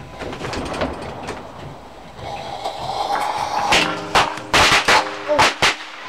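A can exploding outdoors: after a quieter stretch, a series of sharp, loud bangs and cracks go off in quick succession near the end.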